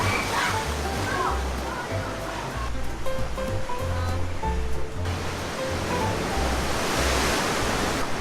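Steady wash of surf at a sea cave in Big Sur rolls through the whole stretch, a broad roaring hiss with low pulses, close by and continuous, with faint voices drifting underneath.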